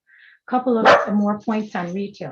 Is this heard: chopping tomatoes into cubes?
no